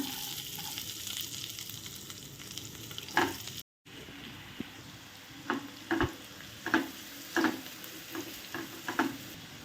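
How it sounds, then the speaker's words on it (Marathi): Onion fries in hot oil left over from frying eggs, a soft continuous sizzle broken by a brief gap, then regular spatula taps and scrapes against the pan as it is stirred, fairly quiet and close. "याच तेलामध्ये आपण आता कांदा टाकून घेऊया"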